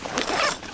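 Zip running along the side of a Mil-Tec bivvy bag with a breathable membrane, outdoors in sub-zero camping. One short, close zipping pull under a second long, heard alone.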